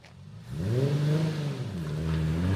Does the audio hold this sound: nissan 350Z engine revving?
yes